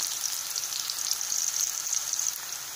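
Onions frying in a pan for veg noodles, a steady bright hiss and crackle of hot oil, continuous and close with no talk.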